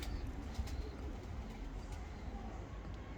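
Pigeons calling from a loft of Kars tumbler pigeons, soft coos over a steady outdoor background rumble, fairly faint and continuous without talk.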